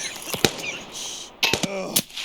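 A few sharp gunshots in Escape from Tarkov's single player mod, spaced irregularly over a couple of seconds, with moderately close, crisp reports standing out from background game ambience.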